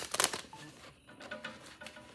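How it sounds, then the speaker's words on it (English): Close, crisp riffle of a deck of cards being shuffled on a desk, a quick burst of flutters followed by softer rustling and settling, with no talk. "let me split the deck and go ahead and shuffle"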